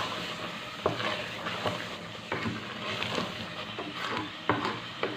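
Grated apple sautéing in a pan for apple halwa: a steady, close sizzle with a soft scraping texture as it is stirred, and small regular clicks of the spoon against the pan, with no talking.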